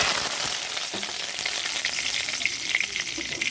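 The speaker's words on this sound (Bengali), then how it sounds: "কিছুটা কারি পাতা আমি ভেজে নেবো" Curry leaves frying in hot oil, a dense, steady crackling sizzle close up with faint pops scattered through it, continuous and without any voices.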